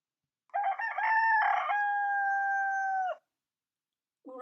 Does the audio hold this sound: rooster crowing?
yes